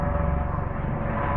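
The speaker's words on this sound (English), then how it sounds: "Now apparently these are all helicopter tours that are" Tour helicopters flying over an RV village at Lake Mead near Boulder City make a steady, droning engine rumble overhead, continuous and fairly loud throughout, with no talking.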